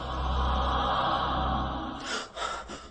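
Panicked, rapid breathing during a panic attack, heavy and close for about two seconds, then breaking into a few short, sharp gasps near the end.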